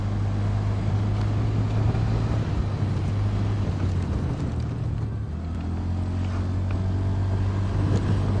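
A 2026 Honda Dio 125 scooter speeds up on a road, a close, steady engine hum that holds on and rises slightly in pitch, mixed with broad wind and road rush throughout.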